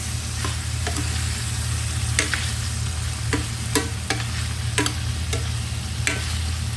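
Boiled chicken feet with garlic for adobo being stirred in a pan: a loud continuous sizzle with sharp scraping strokes of the utensil at irregular intervals, close up, no voices.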